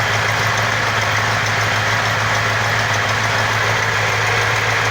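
A classic car engine, a 1969 Cadillac or 1970 Road Runner, idles after a coolant leak onto the exhaust, giving a loud, steady, close rumble with an even low hum throughout.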